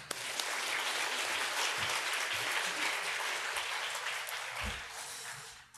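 Congregation at a Korean church Sunday worship service in Manila applauds loudly and steadily to welcome the guest pastor, a dense wash of clapping that fades near the end.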